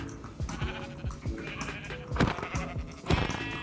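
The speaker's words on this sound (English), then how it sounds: "I see open land and we have sheep." Sheep in Minecraft give several short, wavering bleats in quick succession, fairly close and clear, with no speech over them.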